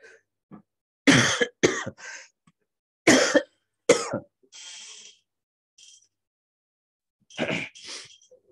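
Several harsh coughs from a person with a cold, in bursts, some paired, close to the mic, with brief pauses and a softer throat-clearing sound between them.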